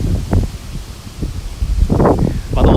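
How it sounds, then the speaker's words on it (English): Gusty wind rustles leaves on a windy day in Tokyo, with loud, uneven bursts of rustling and buffeting that swell and fade, strongest near the end. "so windy."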